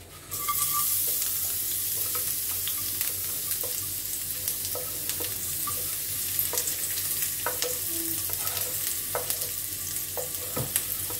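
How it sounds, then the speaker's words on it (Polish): Chopped bacon, onion and garlic frying in hot fat for a keto soup, a steady moderate sizzle with scattered pops and the scrape of stirring, heard close and alone. "I teraz pokrojony boczek, cebulkę i czosnek wrzucam na rozgrzany tłuszcz."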